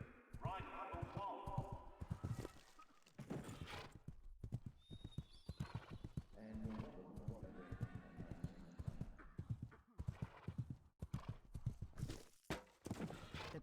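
Rhythmic hoofbeats of a cantering horse in an Athens 2004 Olympic equestrian event in a PS2 video game, with a whinny and a commentator talking over the steady clip-clop.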